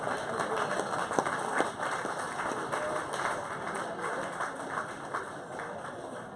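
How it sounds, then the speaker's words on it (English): Applause from a crowd at an outdoor-style awards dinner for a billfish fishing tournament, a steady wash of many hands clapping throughout, moderately loud and sustained with some background voices. "A round of applause, ladies and gentlemen,"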